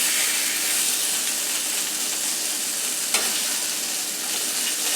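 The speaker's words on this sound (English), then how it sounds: "let's get back to our sausage. Okay, you can see they're browning nicely." Link sausages browning in a pan, a continuous close sizzle with a single brief tap partway through.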